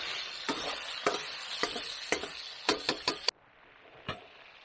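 A spoon works through green paste curry in a camp pot, a constant sizzle broken by repeated sharp knocks and scrapes against the metal, then the stirring stops and a quieter bubbling remains with one last tap.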